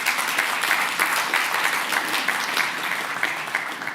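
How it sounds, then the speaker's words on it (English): A tech conference audience claps in steady, fairly loud applause that holds an even level throughout, with a faint rhythmic pulse in the clapping. "that does deserve a round of applause"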